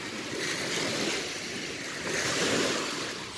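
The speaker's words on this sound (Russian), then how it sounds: "Эти звуки волн." Waves roll onto the shore of Lake Baikal at Barguzin Bay in the national park in August, a steady washing surge rising and falling twice, with wind noise across the microphone and no voices.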